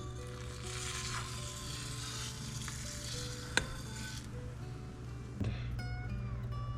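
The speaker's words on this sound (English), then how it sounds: "It's simmering a little rapidly." A pot of avgolemono soup simmers briskly, giving a steady, soft bubbling hiss close by, with a single faint clink partway through.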